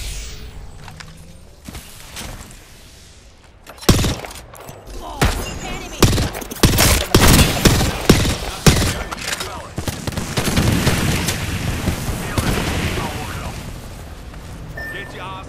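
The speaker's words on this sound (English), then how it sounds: "Bad boys are shooting at me." Bursts of gunfire in the Apex Legends battle royale game, a quiet stretch giving way to loud rapid volleys and booming impacts that keep coming with scattered shots, while a player talks over the fighting.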